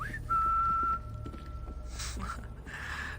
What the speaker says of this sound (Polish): tak, tak, gwizdajmy na zombie